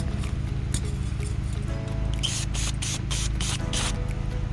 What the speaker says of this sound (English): So I'm gonna spray this part of the sensor out and put it back in.